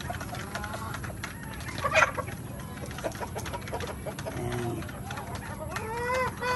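Backyard pet chickens cluck and murmur while being fed, a busy low flock chatter with occasional louder calls, some nearby voices mixed in.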